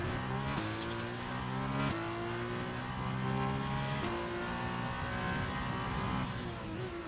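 An F1 car roars at high revs in the racing game F1 2020 on the Austria circuit, a continuous loud engine whine that rises and drops with several gear shifts and sits alone without talk.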